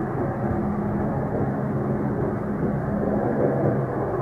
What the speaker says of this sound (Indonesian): lebih kayak suara pesawat terbang di atas rumah gitu loh kalau didengar